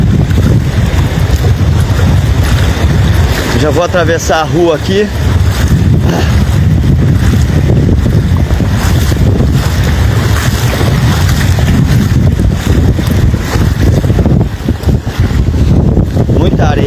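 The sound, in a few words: strong wind blowing at flooded Lagoa dos Patos shore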